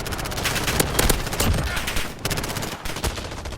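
An MP7 submachine gun in Modern Warfare fires from the hip in loud, rapid bursts, forming dense continuous automatic gunfire with short breaks between strings of shots.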